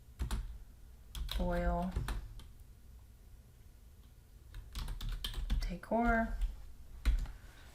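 Keys tapped in short bursts on a computer keyboard while search terms are entered, clicking in quick runs between stretches of someone talking, close and fairly quiet.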